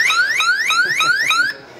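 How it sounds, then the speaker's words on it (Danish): A Fydico anti-theft alarm on a boat sounds with loud rising electronic whoops repeated about every 0.4 seconds, then cuts off sharply near the end. "men alarm går i gang med det samme"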